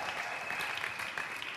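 A church congregation claps and applauds for the Lord, a dense, steady burst of many hands close by that fills the room without pause.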